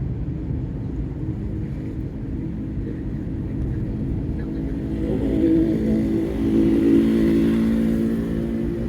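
A car pulls forward and speeds up on a city road during a beginner driving lesson, its engine hum rising in a steady low drone that grows louder toward the end.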